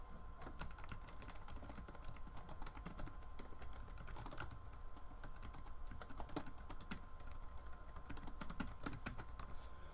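Steady, rapid typing on a computer keyboard, close and clear, with dense clicking keystrokes running throughout and no talk.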